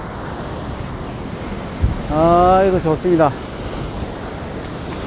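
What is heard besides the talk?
loud ocean waves crashing on Gapado island shore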